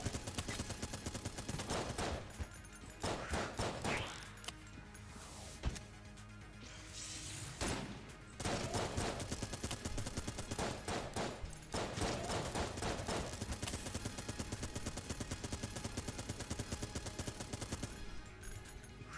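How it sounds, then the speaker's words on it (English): Dense bursts of machine gun fire from the Gatling Gull boss in the video game Enter the Gungeon, rapid crackling volleys spraying almost continuously with brief pauses, mixed with impacts and game effects, loud and without talk. "he just randomly spams in your direction with his machine gun"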